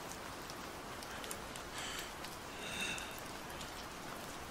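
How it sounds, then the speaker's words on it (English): Rain falling outdoors in cold weather, a soft, steady patter with occasional brighter drips, quiet and continuous with no talk. "Why does it have to rain?"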